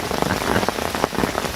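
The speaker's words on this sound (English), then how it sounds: "as you can hear and see, the rain has certainly kicked in" Heavy rain pours onto a fishing lake on a country estate, a dense steady hiss with crackling drops spattering close by, loud and continuous with no voices.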